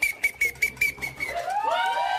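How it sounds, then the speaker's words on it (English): Someone whistles a quick run of short, evenly spaced notes, then slides into a longer wavering whistle that bends up and down. "That's one fine-ass whistle that boy got."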